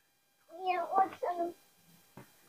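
Cats meowing outdoors near a garden, a few drawn-out meows in quick succession followed by a short fainter call, close and clear.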